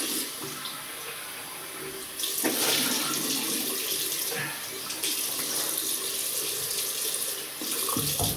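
Water runs steadily from a bathroom tap for rinsing after a wet shave, a continuous broadband splashing that swells louder partway through and keeps flowing to the end, with no one speaking.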